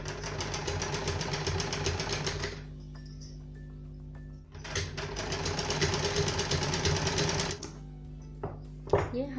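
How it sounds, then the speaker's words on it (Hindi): Sewing machine stitching the shoulder and neck seams of a cowl neck girls' top, rapid mechanical whirring in two long bursts separated by a quiet pause, with a faint voice and small handling noises between runs. "शोल्डर और नेक पर स्टिच लगाएंगे"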